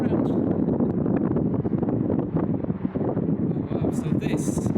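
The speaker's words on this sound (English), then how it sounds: "the wind going around" Steady wind rushing through the bore of the Mersey road tunnel, a loud, continuous roar with a brief rattle near the end.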